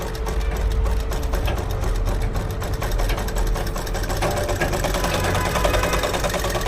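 A sewing machine stitches a blouse sleeve and runs loud and steady throughout, with a continuous mechanical whir and a rapid needle rhythm up close.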